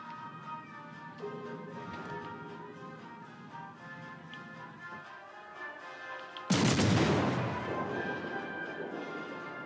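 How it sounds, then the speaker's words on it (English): A torpedo striking a warship in World of Warships: Legends, heard as a sudden loud broadband crash and rumbling explosion that lingers and decays, following several seconds of steady ambient game noise. "One torpedo hit."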